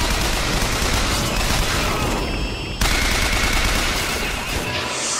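Sustained automatic gunfire in a video game as a whole magazine is emptied, a dense, loud, continuous rattle of close shots with a brief break midway before the firing resumes.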